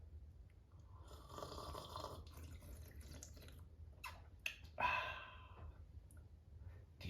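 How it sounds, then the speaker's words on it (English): A short, wet slurp of hot decaf coffee rises around the middle, with faint rustles and soft breathing before and after in a quiet room. "hear the slurp? You got the slurp?"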